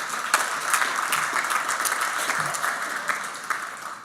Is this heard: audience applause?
yes